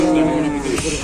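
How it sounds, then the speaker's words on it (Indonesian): A cow lowing on a farm: one sustained, fairly loud moo that fills the short clip. "Di sebelah sana ada sapi medeni."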